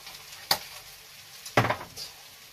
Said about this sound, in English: Now, stir that around.